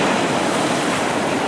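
Big ocean waves wash onto a beach thick with ice balls, making a steady, muffled broadband roar of surf with some wind noise, continuous and fairly loud throughout without pause.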